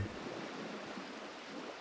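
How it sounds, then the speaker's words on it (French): Sea waves wash in a steady, soft hiss of surf and rolling water, continuous and fairly faint with no distinct breaks or voices. "par le bruit des vagues"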